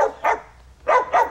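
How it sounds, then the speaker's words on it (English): A dog lets out four quick, sharp barks in two close pairs, loud and near, indoors, in a television drama scene. "You shut up, dog!"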